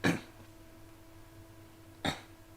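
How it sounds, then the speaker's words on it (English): A man clears his throat twice, about two seconds apart: short, forceful, close bursts with quiet room tone between them. "Sorry, just clear my throat, got a lot of mucus."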